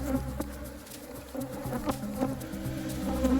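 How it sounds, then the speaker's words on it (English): Africanized honey bees buzzing in a 20-hive apiary, a steady dense drone of many insects with individual bees passing close by, no voices. "Remember, this are Africanized honey bee, however, they are most extremely aggressive in the world when defending their colony."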